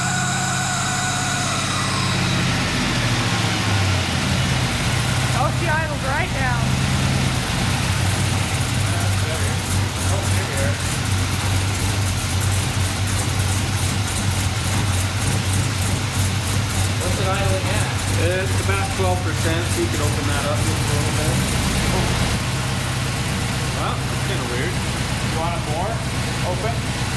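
A K5 Blazer's engine idles steadily and loudly throughout after starting up, a continuous low rumble with people talking over it.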